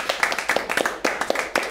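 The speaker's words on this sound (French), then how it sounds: "Et je t'applaudis de ton amélioration." A small group claps to congratulate a presenter in a classroom setting, with distinct, slightly uneven hand claps in quick succession, close and crisp, a few louder individual claps standing out.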